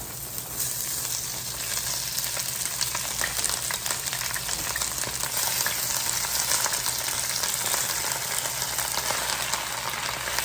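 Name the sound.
onions and spinach frying in a big pan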